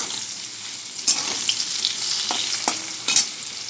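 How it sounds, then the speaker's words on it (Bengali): Potatoes sizzle steadily in hot oil in a pan while a spatula stirs them, with a few sharp scraping clicks against the pan, close and fairly loud, and no talking. "এখন আলুটা ভাজা ভাজা হয়ে এসছে"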